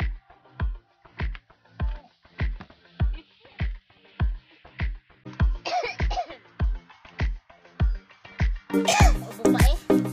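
A long run of about twenty sharp, evenly spaced coughs, close and loud, turning raspier and more strained toward the end.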